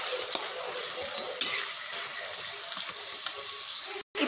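Potatoes fried with mustard seeds and cumin sizzle steadily in a pan while a utensil stirs them, with a few sharp scrapes and clinks against the pan over the constant close frying hiss.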